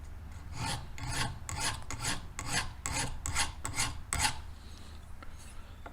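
A hand file rasps on a crossbow arrow to work a burr, about a dozen quick, evenly spaced scraping strokes heard close up, then a quiet pause, with no speech.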